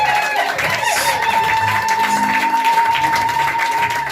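A church congregation at a Sunday service applauds, a sustained patter of many hands clapping at moderate loudness, with a steady tone and some murmuring voices underneath.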